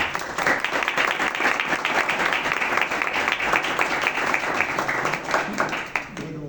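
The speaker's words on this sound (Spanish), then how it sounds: "un aplauso de bienvenido para el profe" A crowd applauds to welcome a professor, a steady dense wash of clapping that holds evenly for about six seconds before tapering off at the end, with no voices over it.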